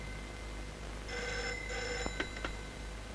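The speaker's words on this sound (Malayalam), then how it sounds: "ആ ഫോൺ എടുക്കടി" A telephone bell rings in a short burst of bright trilling tones, then a couple of sharp clicks as the receiver is handled, fairly close in a quiet room.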